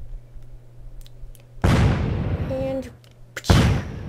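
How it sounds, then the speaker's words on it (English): Two sudden loud blasts from a cannon in the video game Happy Wheels, each a broadband boom with a lingering decaying tail, separated by about two seconds, with a brief spoken word and faint background hum. "That was a weak cannon blast."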